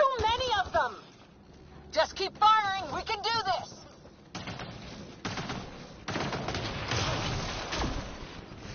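Bursts of automatic gunfire in a Mass Effect 2 firefight, rapid rattling volleys that come and go under shouted voices, louder in the second half.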